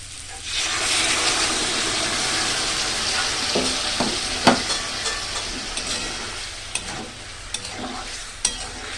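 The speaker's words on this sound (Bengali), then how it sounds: "কষা হয়ে গেল, এরপর একটু গরম জল দেবো।" Pointed gourd, potato and soybean curry sizzles loudly in a hot pan as hot water goes in, with steady broadband frying hiss and a few sharp utensil clicks and scrapes near the end.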